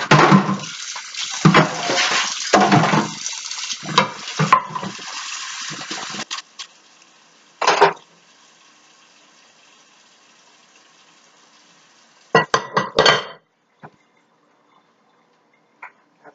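Running water gushes over a frying pan in a kitchen sink after searing swordfish, loud and splashy for several seconds, then stopping, with a brief splash later and another short burst near the end.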